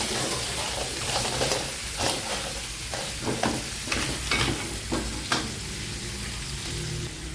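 Crab and mixed seafood fry in a pan while being stirred. A steady sizzle runs underneath, broken by repeated scraping and clattering strokes of the utensil.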